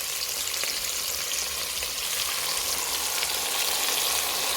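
Chopped tomatoes hitting a pan of chicken curry set off a steady, dense sizzle and fry that runs unbroken and close, with occasional stirring.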